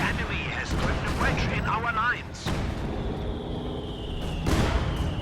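A ZiS artillery barrage in Company of Heroes 2 sounds as a series of heavy booming blasts and sharp reports with rumbling tails, scattered across several seconds beneath continuous talking.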